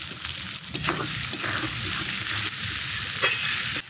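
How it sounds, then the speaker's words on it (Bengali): Chopped half-ripe tomatoes with salt are stirred and fried in a kadai, with a steady close sizzle and scraping stir strokes throughout, ending abruptly. "কড়াইতে টমেটোটাও জাল করে নেড়ে চেড়ে মজিয়ে নিয়েছি"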